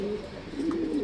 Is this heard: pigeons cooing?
yes